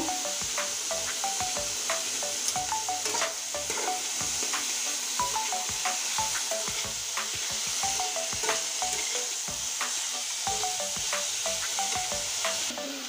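Bitter gourd slices fry in a pan while being stirred, giving a constant sizzle with repeated scraping and rubbing strokes of a utensil against the pan.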